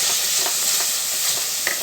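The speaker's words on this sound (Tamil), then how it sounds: "இதை வதக்கிட்டு கறியை போட்டு வதக்கிடுங்க" Meat sautés in a pan with ginger garlic paste, a steady, loud sizzle and hiss with faint stirring scrapes and no voices.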